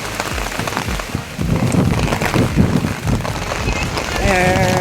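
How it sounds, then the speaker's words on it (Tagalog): Steady, heavy rain pouring and splattering on surfaces close by in Hakone, Japan, a dense continuous hiss with no voices. "Dahil lakas ang ulan."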